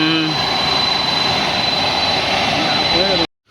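A large airplane passes close by at Chennai Meenambakkam Airport, a loud, steady roaring jet engine drone with a high whine that holds throughout and then cuts off abruptly; a voice speaks briefly under it.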